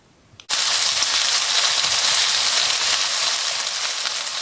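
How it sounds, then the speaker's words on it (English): Potatoes hit hot vegetable oil in a pan after a brief quiet moment, bursting into a loud, steady, crackling sizzle that holds without pause for the rest of the stretch, with no voices. "I'm gonna stir fry this in a couple tablespoons of vegetable oil"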